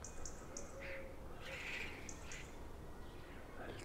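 A common starling calls nearby outdoors with short chirps, clicks and whistles over a steady background hiss.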